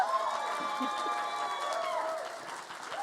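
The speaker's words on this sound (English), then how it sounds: "One more round of applause for the pageant answers from our drag club." Brief crowd applause and cheering for a drag club's pageant answers at a queer community event, moderately loud with whoops and voices mixed in over a few seconds.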